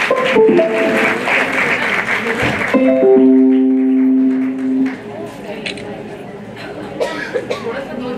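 An audience at a women's Home Minister contest in Karad applauds the winner in a dense burst of clapping for about three seconds, followed by a sustained musical tone and scattered voices.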